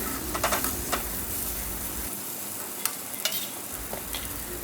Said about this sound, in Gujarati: અને ગેસની ફ્લેમ ધીમી રાખીને આ રીતે ધીમા ગેસે સાંતળતા જવાનું છે।